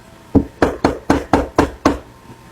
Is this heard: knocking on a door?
yes